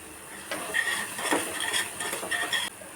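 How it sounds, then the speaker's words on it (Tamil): Mango jaggery thokku with ghee being stirred in a pan, a few seconds of close, continuous scraping and light clinking of a spoon against the metal, with no talking. "இப்போ கொஞ்சமாக நெய் விட்டு 1 நிமிஷம் கிளறி இறக்கிடுவோம்."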